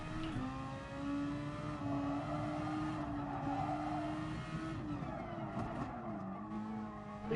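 Race car in a racing video game braking and shifting down, its engine note dropping in steps through a steady roar with tyre scrub, loud and continuous without a break.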